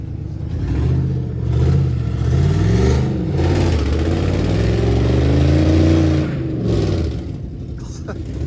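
A Lincoln Navigator engine revs up and eases off in long repeated surges, rocking the truck back and forth to free it from a hole, with a loud close drone and people talking over it.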